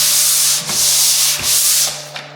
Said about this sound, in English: you just want to make sure that you're sanding a little bit extra